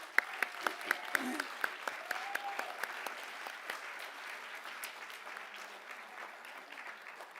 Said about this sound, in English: Please join me in giving all of the 2022 scholarship recipients a big round of applause one more